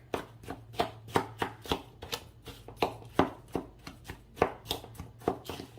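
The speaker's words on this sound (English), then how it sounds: "I want to grab my spoon, break up that brown sugar here." A spoon breaks up brown sugar with cinnamon in a bowl for a peach crumble topping, giving a run of close, crisp scraping and tapping strokes in an uneven rhythm, with a low steady hum underneath and no talking.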